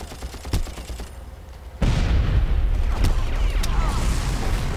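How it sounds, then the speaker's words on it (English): Gunfire in the video game Special Force 2: a sharp early shot, then sustained close bursts of automatic fire and booming shots that fill the rest of the clip. "Bunch of guys shooting at me here."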